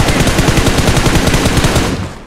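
Loud, rapid automatic gunfire from a video game shootout, a dense burst of repeated shots rattling on for about two seconds before fading.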